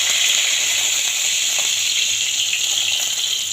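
A single bay leaf in a little hot oil gives a steady, close hiss of frying that holds level throughout with no other sounds or voices.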